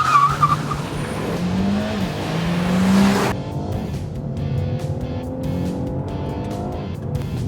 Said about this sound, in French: appuyer à fond sur l'accélérateur, et dès qu'on est prêt, relâcher le frein